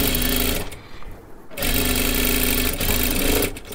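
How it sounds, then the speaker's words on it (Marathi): A sewing machine stitches a katori blouse in a loud, fast, steady whirring run that stops for about a second, restarts, and halts again near the end. "इथे बरोबर शिलाई मारत मारत घ्यायचं आहे"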